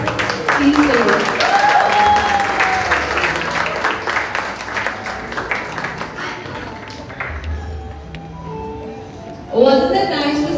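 Audience applause after a children's dance performance at a school event, sustained clapping that fades toward the end under a presenter's voice, followed by a brief louder burst.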